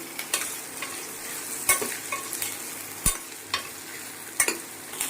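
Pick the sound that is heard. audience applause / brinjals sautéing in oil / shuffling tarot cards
brinjals sautéing in oil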